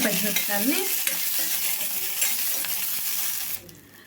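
Green chili pieces fry in a pan with a steady, close sizzle and a few stirring clinks, and the sound drops away sharply near the end.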